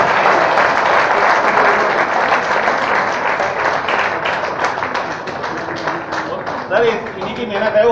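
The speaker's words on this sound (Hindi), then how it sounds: "तालियां हो जाए इसके लिए।" Audience applause at a stage event honouring Shashi Rani, a dense steady wash of clapping from a crowd that runs the whole stretch and thins slightly toward the end.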